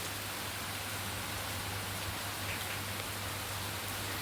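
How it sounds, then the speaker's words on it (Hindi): Heavy rain pours down steadily during a monsoon downpour in Raebareli, a continuous dense hiss with no gaps and no voices. "तेज़ बारिश शुरू हो गई है"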